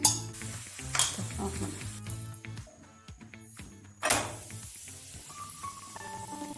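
Radish paratha frying on a hot pan in oil or ghee, a steady sizzle running throughout with louder bursts as it is turned or pressed, close and clear, mixed with background music and clatter.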